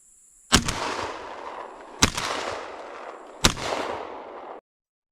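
Three shotgun blasts go off during a dove hunt, each a sharp loud crack followed by a rolling echo, spaced about a second and a half apart outdoors.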